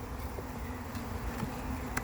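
A honeybee colony buzzes in an open hive, a close and continuous low hum of many insects with a few individual bees flying past.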